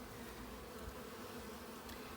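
Honey bees hum at an open hive during an apiary inspection in Ballachulish, a soft, continuous drone with a steady low pitch, close and unbroken.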